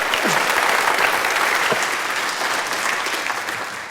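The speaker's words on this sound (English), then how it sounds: "Round of applause for Alfredo" Audience applause for Alfredo at a live Derren Brown casino stunt show, a dense, loud burst of clapping with a few cheers that tapers slightly over four seconds.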